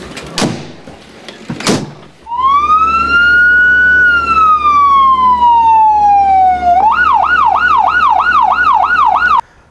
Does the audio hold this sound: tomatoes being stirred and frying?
no